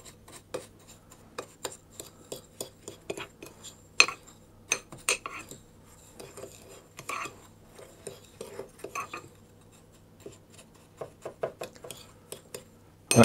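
Plums and sugar stirred in a bowl with a utensil, irregular clinks and scrapes against the dish in loose bursts, close and fairly quiet over a faint hum, with no voices.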